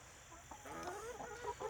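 Chickens in a coop being given treats, clucking softly and faintly in a few short, murmuring calls close by over a quiet background hum.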